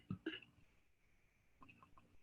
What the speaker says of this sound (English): Did anybody hear that burp?